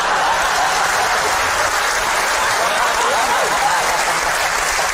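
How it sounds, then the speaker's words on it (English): Dense, steady applause from a large audience, sustained throughout with a faint murmur of voices underneath. "One word gets a round of applause."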